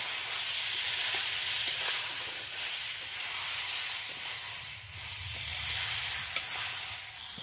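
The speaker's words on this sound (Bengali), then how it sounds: "জিরা পেঁয়াজ দিয়ে দিচ্ছি, আবার একটু কষে নেবো" Cumin and onion paste frying in a pan with potato and eggplant, a steady close sizzle and hiss with light stirring scrapes running throughout.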